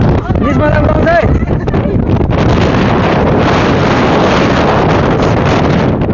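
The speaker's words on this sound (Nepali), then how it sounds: "बजारमा 12 बजी हावा छरेर भनेको त गीत सुनेको थियो, आज देखियो पनि।" Strong wind roars into the microphone at Jomsom market in Mustang, a loud, continuous buffeting rush, with a voice briefly heard at the start.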